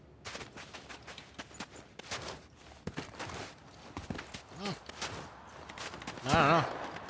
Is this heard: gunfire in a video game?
yes